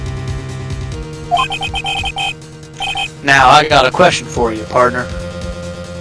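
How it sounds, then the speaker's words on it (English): A mobile phone ringtone plays a repeating electronic melody with bright, clipped tones under music, then someone speaks over it in a voice-acted Phoenix Wright: Ace Attorney scene. "I heard a phone ring just now. One of those newfangled ringtones."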